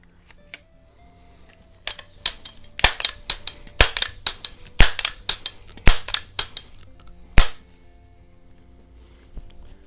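A rare .177 Crosman model 147 self-cocking pellet rifle fires several sharp, close cracks, spaced a second or so apart, with small mechanical clicks and handling noise between shots.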